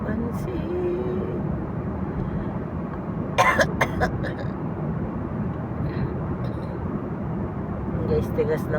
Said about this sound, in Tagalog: Guys, tigas ng ubo ko.